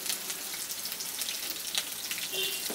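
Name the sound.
chopped onions frying in mustard oil in a kadai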